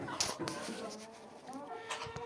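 A flock of around 200 chickens clucking on a rainy day during feeding, with short close clucks and squawks scattered over a steady hiss of rain, and a person's voice partly mixed in.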